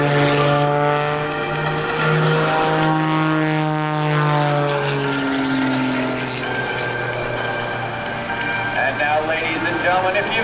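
A Sean Tucker aerobatic propeller airplane maneuvers at the Willow Grove air show, its engine loud and near, the pitch sliding up and down as it accelerates and banks, with an announcer talking over it.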